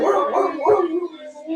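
Charlie the dog howls along to music in a short, close, wavering yowl that rises and falls.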